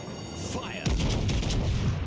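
Warship guns fire in World of Warships Legends: a single heavy boom lands partway through, followed by a rumbling sustained roar and scattered impacts, loud and close.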